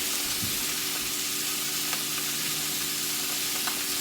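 Onion sizzles in a hot high pan for Italian-style rabbit, a loud, steady frying hiss that stays even throughout, with a few faint ticks and pops and no talking.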